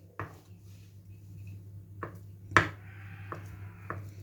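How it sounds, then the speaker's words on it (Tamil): A knife chops boiled egg finely on a board in a home kitchen, with a few sharp, separate knocks spread out over a quiet background hum. "நல்லா ஃபைனாக கட் பண்ணி எடுத்துக்கோங்க."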